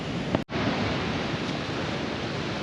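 Sea surf breaking on the shore at Ogmore By Sea in South Wales, a steady broadband wash of waves with a brief dropout near the start, constant and fairly loud with no talk.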